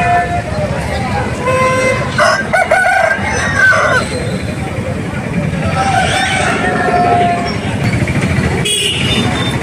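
Country roosters crow repeatedly at a busy village chicken market in Eluru, their calls rising over steady crowd noise, vehicle horns and nearby talking.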